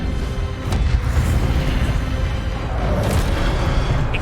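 A Levioso spell cast in Hogwarts Legacy gives a loud, sustained rumbling whoosh that swells steadily and carries a few faint high glints on top, with no voices.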